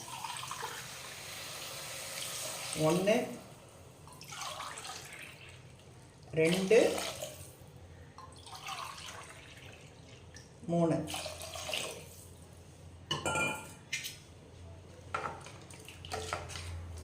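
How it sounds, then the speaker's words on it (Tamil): Water splashes and pours into a cooking pot in several short bursts, close by, between calm speech as someone counts aloud. "நான் தண்ணி சேர்த்துக்கிறேன்"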